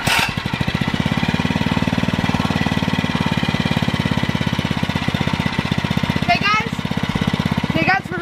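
A mini bike's small engine runs loud and close for the whole stretch, a fast, steady, rough pulsing drone, with a few faint voice fragments near the end.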